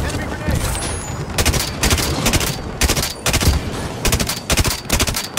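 Shotguns blast in Halo 5 Warzone, loud and close, in rapid clustered bursts repeating through the whole span with only brief gaps and a dense rumbling game background.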